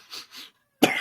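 A person coughs close by: two soft breathy hacks, a brief silence, then one louder, harsher cough.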